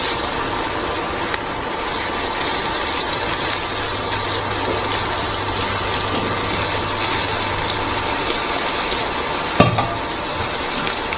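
Onions frying to golden brown with whole mint and coriander leaves added for a Deepavali feast, sizzling steadily and loudly in the pan with occasional stirring scrapes and a brief clatter near the end.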